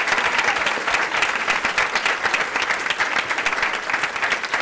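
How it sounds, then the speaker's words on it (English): An audience at a school board meeting applauds a student team, giving steady, dense clapping that carries on at an even level from start to finish with no talking. "So we'd like to give a huge round of applause to Alexander Wilson's team."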